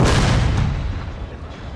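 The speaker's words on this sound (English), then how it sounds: "Got huge gun batteries here for the Ottomans." Huge Ottoman gun batteries firing in the Pike & Shot Total War game, a loud booming artillery blast with a long rumbling decay and no talk.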